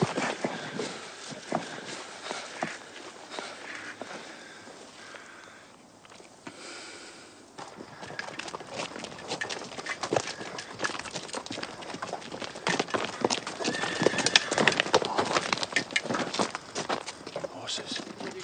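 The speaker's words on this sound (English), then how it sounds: "Just horses." Several horses approach on a track in a Napoleonic-era setting, hooves clip-clopping in a steady, building rhythm that grows louder and nearer, with snorts and sniffs mixed in; no clear neigh stands out.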